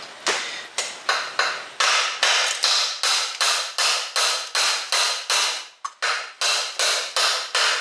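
Repeated hammer blows punching the governor pin out of a 98cc small engine, about fifteen sharp, evenly spaced metallic strikes ringing close and loud with no talk.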